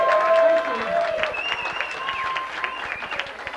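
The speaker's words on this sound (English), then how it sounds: "I want y'all to give a round of applause" A live music crowd applauds a female vocalist of the band, with a dense wash of clapping and cheering running under sustained singing or instrumental tones.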